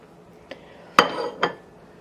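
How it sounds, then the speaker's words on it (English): A spoon stirs milk simmering with cinnamon sticks and hot chilies in a pot, making three distinct metallic clinks against the pot, the middle one loudest, each ringing briefly, with quiet surroundings and no talk. "So I'm just gonna stir."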